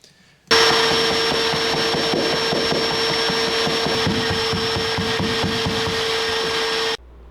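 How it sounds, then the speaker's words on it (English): A vacuum cleaner drones steadily inside a car, cleaning the carpet of a foul-smelling interior. It starts abruptly and stops just as suddenly, while rhythmic beating thumps with a body hammer sound beneath it. "I'm beating on it like that and vacuuming it at the same time because it stinks so bad."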